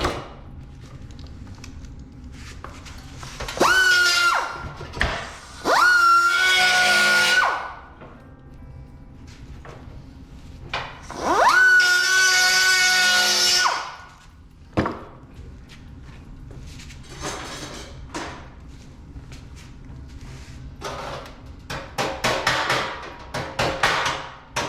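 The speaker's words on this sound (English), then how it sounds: "I'll just use this little die grinder here." A small die grinder cuts metal for a Mustang radiator cover, giving two sustained high-pitched whining bursts that rise and fall in pitch, close and fairly loud, amid lighter tapping and handling noises.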